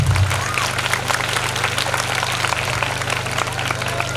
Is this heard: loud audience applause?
yes